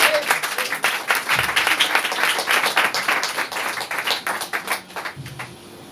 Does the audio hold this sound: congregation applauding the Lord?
yes